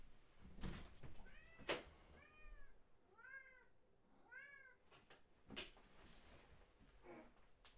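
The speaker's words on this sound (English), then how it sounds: "Can you guys hear my cat out there? He's like screaming to be held." A cat meows loudly and repeatedly indoors, a few drawn-out, rising-and-falling cries spaced a second or so apart, with faint knocks and rustles between them and no talk.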